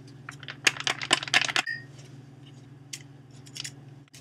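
Scissors snipping the corner off a Jell-O packet in a home kitchen, a quick cluster of crisp cutting clicks and crinkling close up over a steady low hum, then quieter rustling.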